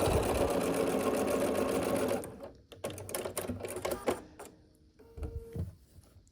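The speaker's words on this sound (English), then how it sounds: "So let me match this up, sew it together." A sewing machine runs fast and continuously, stitching quilt fabric pieces together for about two seconds. It is loud and close, then stops, followed by sharp clicks and fabric handling noises.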